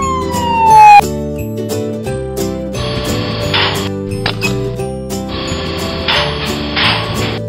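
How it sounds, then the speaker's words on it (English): A white toy ambulance's siren wails loudly in a wooden toy parking playset, a continuous electronic siren over busy background music, with no talking. "Ambulance, white."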